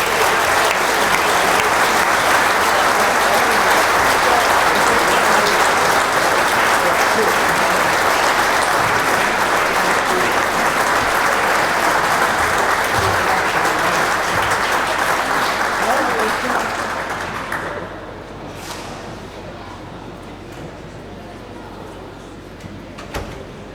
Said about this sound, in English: Will you please give a huge round of applause to Limerick's Martina McMahon.